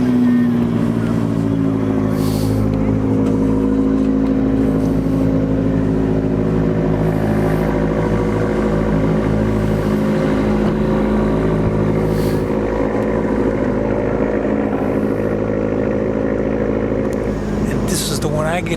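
An Abarth car's engine drones steadily and loudly with a shifting low tone at Raceway Park, with a person talking over it throughout.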